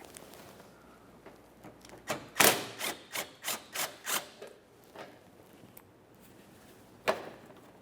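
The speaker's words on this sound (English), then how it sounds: "Remove the mounting bolt." An 8mm bolt holding the bumper cover to the fender is worked loose on a 1994-1997 Honda Accord, a close burst of rapid ratcheting clicks in a quick even series, then a few scattered taps and one final click.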